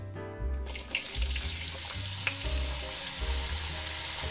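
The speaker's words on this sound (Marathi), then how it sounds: "आता आपण एक मोठा चिरलेला बटाटा टाकूया तुपामध्ये" Chopped potato dropped into hot ghee in a kadai bursts into a loud, continuous sizzle right up close, with stirring clatter pulsing beneath it and no speech.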